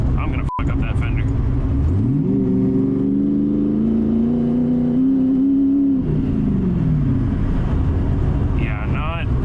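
A Ford Ranger truck with an exhaust on a 331 engine build driven fast down a rough road, loud steady engine drone that rises in pitch and falls back, with wind buffeting and a voice talking over it.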